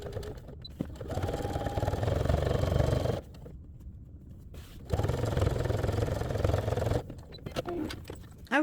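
A sewing machine runs in two sustained bursts, top stitching along the zipper of a fabric wristlet pouch, its rapid mechanical whirr close and steady, separated by a quiet pause and followed by brief handling sounds.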